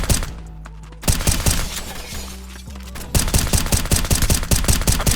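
Rapid bursts of gunshots from a Glock pistol with a drum magazine in the South Bronx, loud sharp cracks firing in quick succession, a short pause, then another fast volley.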